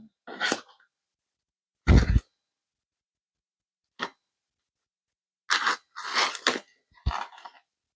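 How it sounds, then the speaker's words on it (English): Chewing into crunchy sourdough bread crust: close, loud crunching bites in separate bursts with silent pauses between them, no talking. "The crust has a nice crunch."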